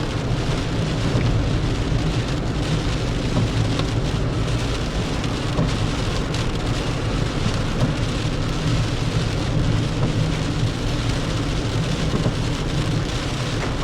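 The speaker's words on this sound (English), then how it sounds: "Rain has slowed down just a little bit." Steady rain from Tropical Storm Isaias pours down on flooded roads in a dense, continuous hiss, with a low rumble beneath it and no voices.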